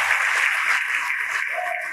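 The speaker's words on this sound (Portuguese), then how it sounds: "vamos aplaudir ao Senhor Jesus por cada vida que está chegando" Church congregation applauding, a brief dense burst of clapping that carries on steadily with voices faintly mixed in.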